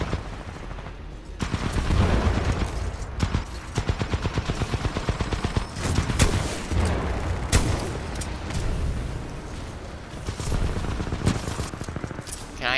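Gunfire in Titanfall 2, with heavy, booming shotgun blasts mixed among bursts of rapid shots, loud and close, coming in irregular clusters across the stretch with a voice talking over parts of it.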